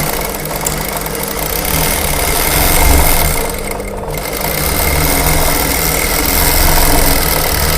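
A sewing machine in a ladies' tailoring shop stitches a lining seam, giving a loud, continuous, close mechanical whir that swells slightly and holds steady for the whole stretch, with no talking.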